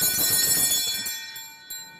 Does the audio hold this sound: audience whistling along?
no